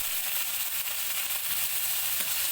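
Vegetables including cauliflower sizzle in hot oil in a pan, with a continuous bright crackling hiss held close and steady and occasional faint stirring clicks.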